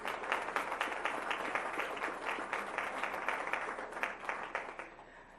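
An audience applauds at a school board meeting during presentations: steady, dense clapping carries on for several seconds at moderate loudness, then eases slightly toward the end, with no talking over it.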